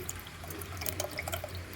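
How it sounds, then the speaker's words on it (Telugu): Extra water is poured into mashed dal for a village-style dal charu, a close, steady trickle and splash of liquid with a few small drips, no voices over it. "ఎక్స్ట్రా వాటర్ని కూడా వేసేస్తున్నాను"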